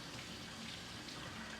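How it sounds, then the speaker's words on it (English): Tap water runs steadily into a sink while soapy hands are rinsed during handwashing, a continuous soft hiss and splash that sounds close and even from start to finish, with no talking. "Turn my water on and then rinse."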